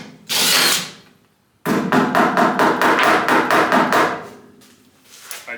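Lock nuts being loosened with a wrench on a rusty vintage 10-inch Atlas table saw during a rebuild: a short hiss-like scrape, a pause, then a rapid series of about ten metallic ratcheting clicks close up.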